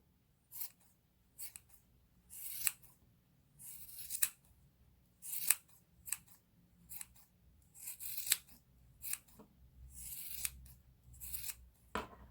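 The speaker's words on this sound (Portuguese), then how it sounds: "Vocês podem fazer com a tesoura assim, ó." Scissors snip through paper to shape a pompom, a steady series of short crisp cuts about one every second, close and clear in an otherwise quiet room.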